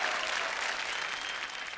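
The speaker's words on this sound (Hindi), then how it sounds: "एक बार जोरदार तालियां हो जाए कल्पना चावला जी के लिए।" Studio audience on a televised inter-school quiz show applauding for Kalpana Chawla, a brief burst of dense, even clapping at steady loudness.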